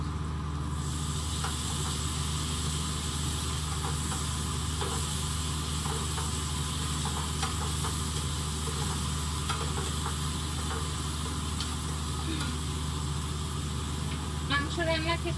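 Garlic paste sizzling in hot oil in a pan while meat cooks, a steady close frying hiss throughout with a voice speaking faintly underneath.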